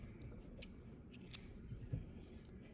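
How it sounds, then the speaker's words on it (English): Scissors snip through crochet yarn in a few quiet, short cuts spaced over a couple of seconds, close and soft against a faint background hiss. "and then we're going to cut our yarn"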